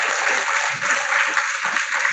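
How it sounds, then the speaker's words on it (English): Dense crowd applause from a webinar audience on a lunar mission talk, a steady wash of many hands clapping at close range, holding an even loudness for about two seconds with no voices over it. "Show your excitement with a huge round of applause."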